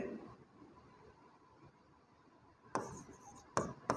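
Writing on a board during a lesson: quiet rubbing strokes, then a few sharper scratchy marks near the end, close and fairly faint, with no talk.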